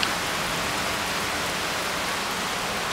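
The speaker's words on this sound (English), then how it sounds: "It started to rain." Rain falls outdoors in a dense, steady hiss of drops on surfaces, loud and close with no pauses across the short stretch.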